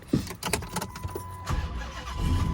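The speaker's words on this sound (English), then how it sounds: "I'm about to start the car." A 2006 Chrysler 300C with a 5.7 Hemi V8 cranks briefly, then fires and settles into a steady idle, with a few clicks and rattles around the start, close and moderately loud.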